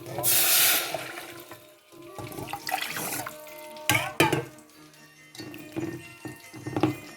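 Water gushes and pours into a pan of frying squid and potato curry, followed by splashes, clanks of cookware and scattered sizzling pops nearby.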